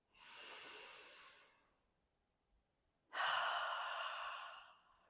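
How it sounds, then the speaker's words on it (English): Two deep, slow breaths from a person during a gentle yoga stretch, close and airy, with a hushed pause between them and the second breath louder and fuller. "One full breath in and out."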